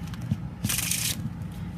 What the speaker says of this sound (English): now let's give it a good shuffle